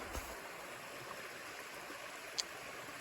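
Steady quiet rush of flowing water along the Appalachian Trail, a soft continuous stream hiss with one brief click, no voices.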